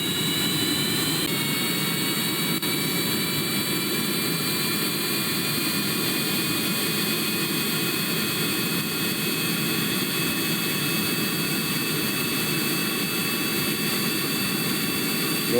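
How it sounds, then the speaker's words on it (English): Draco jet engines on a spaceplane in Kerbal Space Program roar steadily through a takeoff, a loud, continuous whine-and-rumble wash with a high tonal hum that stays constant throughout. "Okay, Draco engines are enabled. Just try to take off now."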